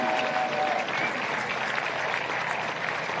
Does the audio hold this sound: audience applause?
yes